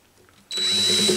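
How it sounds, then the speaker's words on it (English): A small power drill with a 1/16-inch bit whirs to life abruptly after a quiet moment, spinning at a high steady pitch. "my smallest drill bit, which is a 1/16 drill bit, gonna come in about a quarter of an inch"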